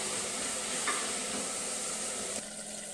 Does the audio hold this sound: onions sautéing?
yes